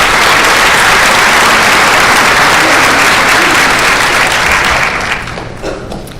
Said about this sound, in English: everybody deserves a round of applause for that